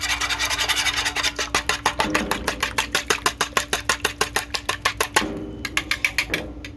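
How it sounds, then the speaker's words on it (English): Two eggs for zucchini fritters are whisked in a bowl: fast, even, close scraping strokes, about four per second, over a constant low background hum, with no talking. "put them right into the bowl, give that a whisk."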